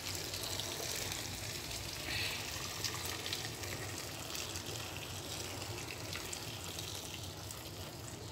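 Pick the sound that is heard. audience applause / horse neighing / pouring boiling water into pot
pouring boiling water into pot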